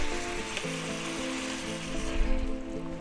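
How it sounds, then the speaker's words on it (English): Sweet and sour sauce is stirred into a sizzling pork and vegetable stir fry, a near, steady frying hiss with a low tonal hum underneath and a brief swell of bubbling near the end. "We'll give that a good stir."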